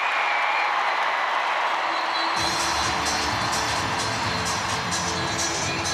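Rugby stadium crowd at a women's Six Nations match between England and Ireland roars steadily after a try, a dense, loud wall of cheering and applause that swells partway through and holds to the end.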